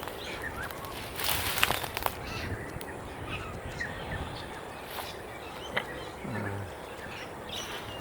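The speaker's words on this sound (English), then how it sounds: "What you can hear here is actually wattlebirds, little wattlebirds" Little wattlebirds give harsh, croaking calls outdoors, several birds in a scattered sequence, some bursts nearer and louder over a steady background hiss.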